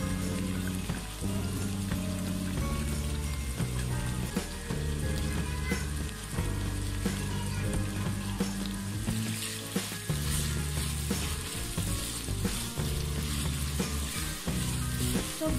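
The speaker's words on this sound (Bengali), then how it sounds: "সবজিগুলোকে আমি ভেজে নিচ্ছি ভালোভাবে।" Raw fish with carrot, capsicum and chopped green chilli frying in a pan for Thai egg noodles, a dense continuous sizzle with steady low rumbling and occasional stirring, loud and close, no speech.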